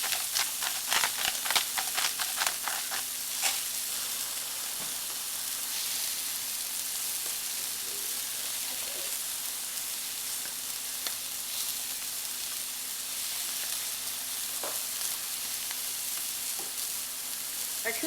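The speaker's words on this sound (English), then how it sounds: "There is our pork cooking nicely." Seasoned herb pork chops fry in a pan with a constant close sizzle, with a flurry of crackles and pops early on, then steady frying with scattered clicks.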